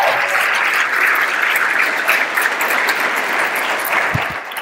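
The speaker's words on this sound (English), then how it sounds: "So give Marshall a round of applause" A dense burst of applause from a lecture audience, loud and sustained, fading slightly at the end.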